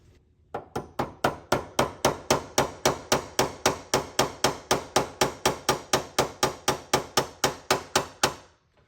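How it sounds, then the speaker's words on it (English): A rapid, steady run of sharp hammer taps on a metal gun safe cam lock, about three per second for several seconds, close and loud with no talking. "I'm gonna give it a little tap with a hammer."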